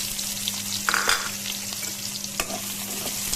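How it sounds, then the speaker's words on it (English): Chopped onions frying in a hot pan with cumin seeds: a steady crackling sizzle with stirring scrapes and small pops, close and continuous, with no voices. "As soon as the smell of the jeera is released, I am going to add to it our onions."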